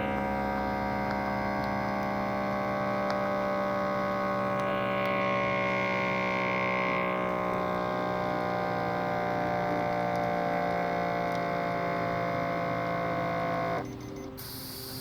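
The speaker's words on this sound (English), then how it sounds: "Now place your hand inside the cuff and wait until it fully inflates." A blood pressure cuff inflating in an Oculus Quest 2 simulation gives a steady, loud electronic hum that drones on without a break for about fourteen seconds, then shifts abruptly near the end.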